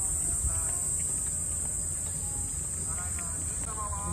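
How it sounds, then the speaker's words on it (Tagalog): Crickets chirp in a steady, dense chorus at an outdoor campsite, a continuous high-pitched trill running through the whole stretch over a low background rumble, with faint scattered sounds from the surroundings. "Ang ingay ng mga kuliglig."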